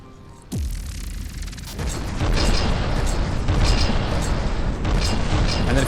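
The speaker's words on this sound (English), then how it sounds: "we just hit our own fortress with a missile" A missile strikes the player's own fortress in the naval combat game From the Depths, setting off a heavy boom and a sustained loud rumbling roar of explosions and machinery.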